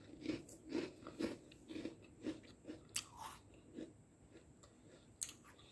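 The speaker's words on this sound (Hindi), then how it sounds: "एक कुकीज़ मैं आपको तोड़कर और खाकर बताती हूँ कि हमारी कुकीज़ कैसी बनी है" A crisp homemade sweet and salty ajwain cookie is snapped and then eaten close up, with about a dozen crunchy bites in a steady rhythm, quiet and without talking.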